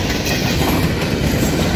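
A CP double coal train rolls past at Mission Flats near Kamloops, BC, a steady, loud, close rumble of rail cars with rhythmic clickety-clack from the wheels and no pauses.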